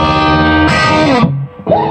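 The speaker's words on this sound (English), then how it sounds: "Okay, now let's go to the amp's distortion." Electric guitar runs through the distortion channel of a Hughes & Kettner amp with a Boss ME multi-effects unit, giving loud, sustained, heavily distorted chords that change twice, drop out briefly, then return, with no talking.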